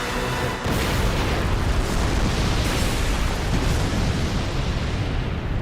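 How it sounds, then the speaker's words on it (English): Explosion from a My Hero Academia anime episode (season 8, episode 7): a loud, dense blast that opens with a sharp hit and then roars steadily and continuously, filling the whole stretch with heavy rumbling. "Crazy explosion."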